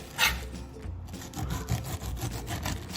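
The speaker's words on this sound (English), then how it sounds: "I'm going to take my pineapple and I'm just gonna cut the outside of it." A knife slices away the tough outer skin of a whole pineapple, giving close, dry rasping and scraping strokes that repeat steadily as the fruit is turned, with no talking.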